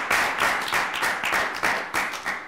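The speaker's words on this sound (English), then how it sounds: "let's give a round of applause to Giovanni" Applause for Giovanni at a live World Radio Day broadcast: a crowd clapping steadily and fairly close, with rhythmic swells, no voices over it.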